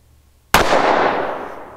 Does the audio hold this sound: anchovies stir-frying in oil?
no